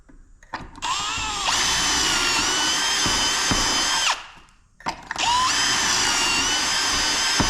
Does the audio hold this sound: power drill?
yes